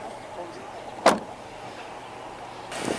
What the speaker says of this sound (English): All right, Mr. Matthew, I'm close the door, okay?